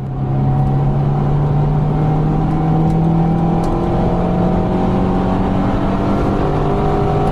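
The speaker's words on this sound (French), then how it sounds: "Ce vrondissement, c'est celui du moteur de la dernière voiture Lada Vesta sur le marché." A Lada Vesta engine runs loudly and steadily throughout, a sustained hum with a slight rev swell near the middle and no speech over it.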